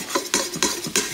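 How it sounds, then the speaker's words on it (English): A spoon stirs country-style ribs and beer in an Instant Pot pressure cooker, giving three or four evenly spaced metallic scrapes and knocks against the pot, close and fairly loud with no talk. "And then we're gonna just stir this."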